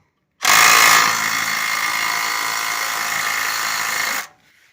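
A Husky 3/8-drive ratchet turns an 11 mm socket on a 3-inch extension, removing an exhaust pipe on a 2004 Mazda MPV. The ratchet makes a loud, continuous, close buzzing clatter for about four seconds, then stops abruptly.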